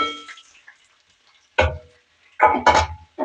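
Chopped onion, carrot, beans, cabbage and capsicum stirred and fried in a pan for egg vegetable fried rice, with a few bursts of scraping and sizzling separated by quiet pauses, close and moderately loud.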